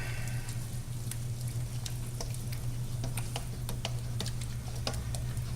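Italian cauliflower and quinoa bake ingredients stirred in a pan, a low steady sizzle under a constant hum with light irregular spoon ticks and scrapes throughout.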